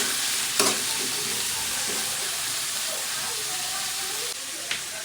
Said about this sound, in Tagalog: habang ginigisa natin yung sibuyas, bawang, tsaka kamatis